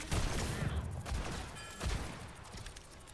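Rapid gunfire from Ashe's rifle in Overwatch, a dense run of shots in the first second followed by scattered bursts amid the busy noise of a match.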